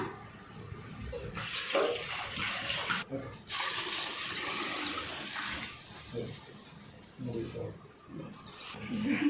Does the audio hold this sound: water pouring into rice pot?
yes